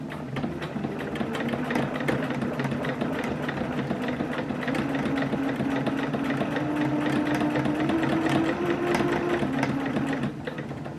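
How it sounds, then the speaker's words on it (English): A sewing machine top stitching dungarees fabric, running as a steady continuous mechanical whir and rapid needle hum for about ten seconds, close and alone before stopping near the end. "I'm going to top stitch around this now"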